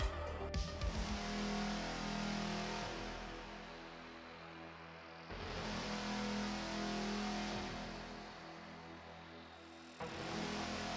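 Hot Wheels toy cars racing down a drag track, with rolling, rumbling swells of plastic wheels on the track rising and fading in two or three runs, faint and steady, no voices.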